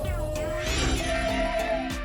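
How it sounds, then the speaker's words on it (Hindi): A lamp falls and shatters, a bright ringing crash of breaking glass that rings on with tinkling overtones for a couple of seconds, loud and close. "ओह, मेरी लाइट गिर गई।"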